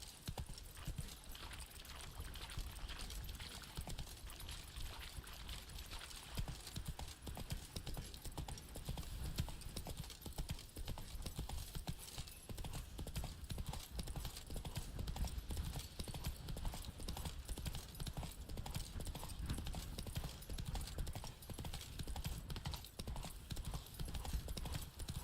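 Hooves of Roach, Geralt's horse in The Witcher 3: Wild Hunt, beat a rapid, steady galloping rhythm throughout, with occasional faint snorts and a brief voice at times.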